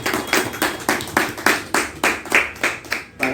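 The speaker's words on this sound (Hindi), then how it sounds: "जितने भक्तजन हैं हम उनसे निवेदन करते हैं तालियों के साथ में वो उनका अभिनंदन करें।" Crowd of devotees at a religious gathering claps in unison to welcome a guest, with steady rhythmic beats about every half second, loud and close.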